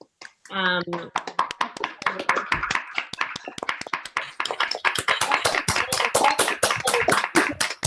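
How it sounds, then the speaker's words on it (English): Participants in an online poetry festival closing event unmute to clap for the readers, producing scattered, overlapping hand claps over compressed call audio, mixed with cheering voices that grow busier toward the end. "give a big round of applause to all of our readers tonight"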